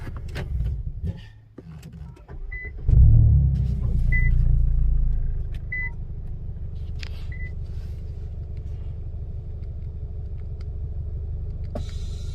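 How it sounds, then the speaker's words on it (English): Airlift air suspension compressors kick on at the rear of an Infiniti Q60, a low steady motor hum and rumble swelling then holding, with a few faint electronic beeps over it. "You can hear the compressors turn on in the back."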